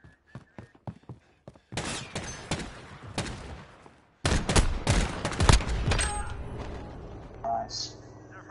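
Gunfire in Call of Duty Modern Warfare: a few sharp isolated shots, then dense bursts of rapid automatic fire that grow loud and continuous, with voices talking underneath.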